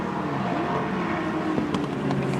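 Touring race cars from the 1983 Australian Touring Car Championship battle closely on track, engines roaring steadily with harmonic whine and a brief sharp rise near the middle, loud and continuous.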